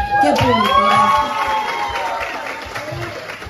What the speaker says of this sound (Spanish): sentir que todo el público les haya aplaudido de esa manera